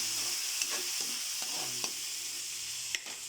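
An egg frying in a pan of adobo, a soft, continuous sizzle with a few scattered clicks and taps of a utensil.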